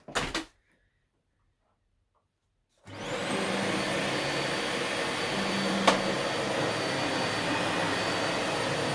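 A new Dyson Small Ball upright vacuum cleaner switches on after a short knock and a silent pause, then runs with a loud, steady whirring drone indoors, with one brief clack partway through.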